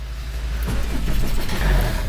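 A Renault car engine runs and revs close by, a steady low rumble that grows rougher and more uneven as it picks up, with no voices over it.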